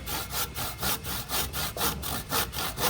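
A hand saw works through boat skin fittings in quick, even back-and-forth strokes, about a dozen rasping passes in three seconds, close and alone.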